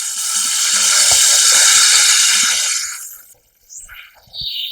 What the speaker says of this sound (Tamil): வேக வச்சு உரிச்சு எடுத்த முட்டைய வறுத்து எடுத்துக்கலாம்.